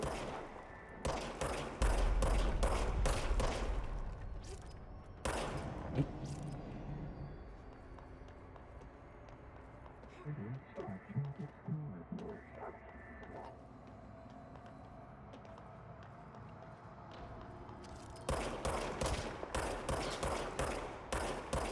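Gunfire in the game Control, heard as loud rapid volleys at the start and end with a single shot between, separated by a long stretch of low rumbling ambience and faint mechanical sounds.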